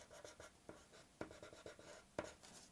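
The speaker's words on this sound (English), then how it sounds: "if you really want to sharpen it up, you can go in with a pencil" A pencil scratches and strokes over black painted edges of a chrome skull painting, producing close, quiet rhythmic scratching with a few sharper taps as it works around the edges.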